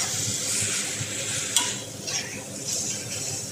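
Spring roll filling is stirred in a hot pan with a stainless ladle, giving a steady sizzle with scraping and an occasional light metallic tap, close by.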